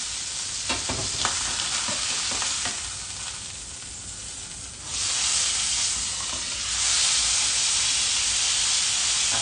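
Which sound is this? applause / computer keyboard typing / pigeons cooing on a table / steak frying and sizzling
steak frying and sizzling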